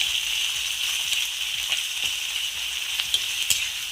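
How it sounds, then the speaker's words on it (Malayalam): Onions fry in a pan with a steady, moderate sizzling hiss, dotted with faint scattered pops and crackles throughout. "ഉള്ളി നന്നായിട്ട് മൂക്കണം നല്ല ചുവക്കെ മൂക്കണം"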